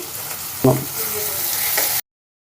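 Small, finely chopped tomato pieces sizzle in a hot pan, a steady close frying hiss with a brief louder spatter near the start, cut off abruptly after two seconds.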